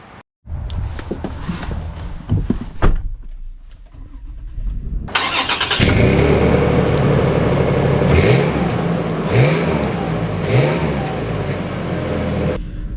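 A 2024 Toyota 4Runner's engine starts, then revs up as the SUV drives off, with a few short throttle surges rising and falling, heard from nearby with no talking.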